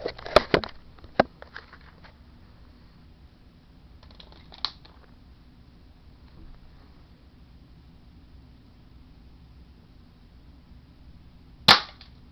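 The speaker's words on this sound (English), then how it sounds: "I'm just shooting at it, so I can hit the target" A UHC airsoft revolver fires at a target in sharp, isolated snaps: a few quick cracks at the start, one near the middle and a louder one near the end, separated by quiet handling noise.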